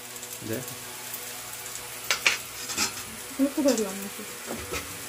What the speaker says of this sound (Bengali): নেড়ে নেবো ভালো সুন্দর করে।